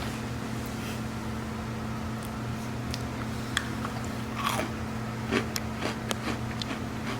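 Crunchy American snacks eaten up close, with scattered crisp bites and crunching over a constant low hum, getting denser toward the end, with no talking.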